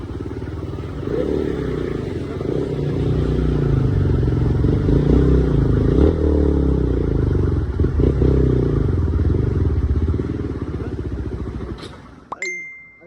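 A motorcycle engine drones loudly and laboriously for several seconds, straining under load on a steep uphill climb, then fades with a sharp metallic clink at the end.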